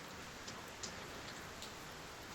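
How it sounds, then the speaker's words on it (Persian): Steady rain falls throughout, a dense even patter with a few brighter drops striking a surface; no voices. "برای قطره قطره دانه های باران"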